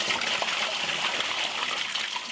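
Flushed toilet water rushes steadily through a drain inspection chamber, a close, continuous gushing flow with no pauses.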